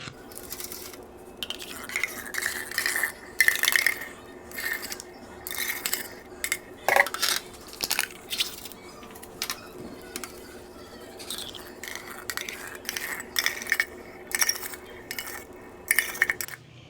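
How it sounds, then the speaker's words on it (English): Metal cans of blueberry pie filling are opened and scraped into a deep-dish aluminum pan, with repeated sharp clinks, scrapes and crinkly taps close up and no talk. "we're gonna open up both cans of the blueberry pie filling into one of these deep dish aluminum pans"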